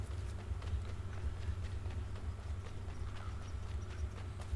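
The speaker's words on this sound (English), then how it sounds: "It's a horse and carriage." In Assassin's Creed III, a horse-drawn carriage rolls past with rhythmic, rapid clip-clop hoofbeats over a low rumbling bed, heard steadily and fairly close.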